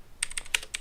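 A computer keyboard clicks through a quick burst of about six or seven keystrokes, close and fairly faint, with no voice over it.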